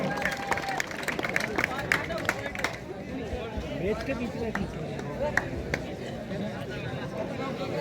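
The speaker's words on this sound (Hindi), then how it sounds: "एक बार जोरदार तालियां, अभिनंदन, स्वागत।" A crowd at an outdoor 65th district-level kabaddi tournament breaks into brisk clapping that is dense at first, then thins into ongoing crowd chatter and hubbub.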